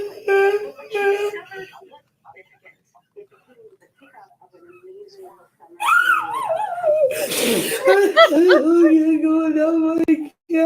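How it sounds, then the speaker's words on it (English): A dog howls and whimpers in the background of an indoor setting, with rising and falling wavering cries that grow louder and sustained toward the end, following quieter sporadic sounds. "The dog. The background. Howling at her."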